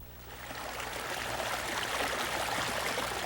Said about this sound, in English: Water trickling through a beaver dam